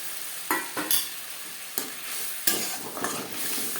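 Spice paste stirred into onion and tomato frying in a pan for a Bengali-style bhangar fish curry, a steady sizzle broken by a few sharp spoon scrapes, close and alone.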